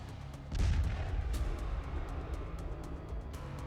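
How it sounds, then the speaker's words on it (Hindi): A landmine detonates on a battlefield in eastern Ukraine, set off by a pig in front of Russian soldiers: one sharp, heavy blast followed by a rumbling, crackling tail and scattered sharp ticks as the sound decays. "अचानक रूसी सैनिकों के सामने एक सुअर आ गया और माइन में धमाका हो गया"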